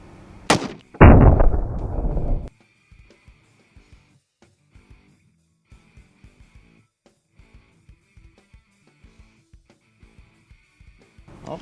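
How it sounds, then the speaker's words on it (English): A .308 rifle fires a single full metal jacket round into ballistics gel: one sharp, very loud, close blast with a brief rumbling decay, followed by faint clicks and handling sounds. "For the control, we put the full metal jacket into this ballistics gel."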